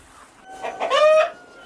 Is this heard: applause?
no